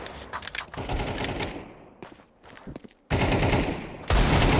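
Bursts of automatic gunfire from Counter-Strike 2 on the Dust 2 map, loud rapid rattling volleys with short gaps, the last two bursts especially close and intense.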